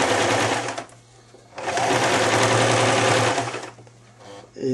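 A sewing machine stitches a fluffy neck warmer in two loud, fast runs of close mechanical whirring, separated by a brief pause with the motor idling quietly.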